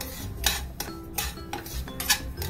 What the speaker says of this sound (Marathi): हे असं मंद आचेवरती खरपूस असं भाजून घ्यायचं चांगलं